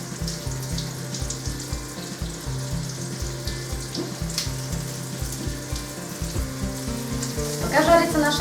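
Rabbit meat fries in a pan with a loud, continuous close sizzle and crackle, and occasional spits and stirring noises, which grow louder near the end.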